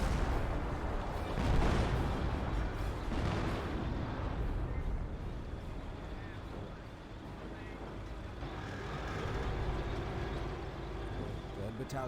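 Artillery and 88 gun fire in a Company of Heroes battle, with booming blasts and rumbling explosions amid ongoing battle noise, while a commentator talks over the action almost throughout.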